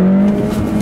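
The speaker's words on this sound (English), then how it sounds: "Little bit of a wheel spin there." A 2018 Honda Accord Sport 1.5T with a manual gearbox breaks traction on a back road, its tires spinning briefly under a loud, steady engine drone with a short squeal riding over it.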